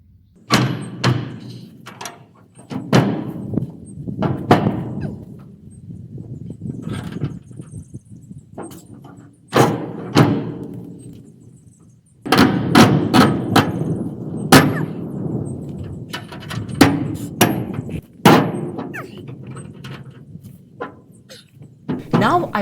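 The bent, misaligned door of a 40-foot steel sea container being forced shut, a series of loud metallic bangs, clanks and scraping squeals spread over twenty seconds, close by, with voices in the background.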